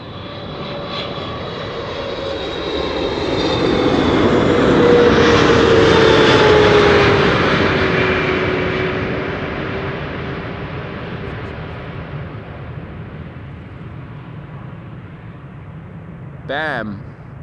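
A long-range airliner passes by at Amsterdam Schiphol Airport, its engine roar swelling to a loud peak over several seconds and then slowly fading into the distance, with a short chirp near the end.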